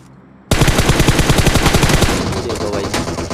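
An M4 rifle in the mobile game PUBG Mobile fires a rapid sustained automatic burst, loud and close, each shot sharply distinct in a fast even rhythm that trails off slightly toward the end.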